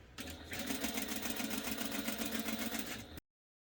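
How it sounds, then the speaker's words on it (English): A sewing machine runs steadily while quilting at a 5 mm stitch length, producing a close, even motor hum with rhythmic needle clatter that stops abruptly after about three seconds. "I'm stitching at 5 millimeters, which is the max length for my machine"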